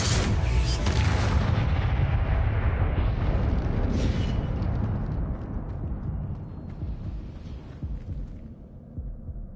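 A Confringo fire-blast spell explodes in Hogwarts Legacy, a loud, heavy booming roar with deep rumbling that starts strong and slowly fades over several seconds, with no voices.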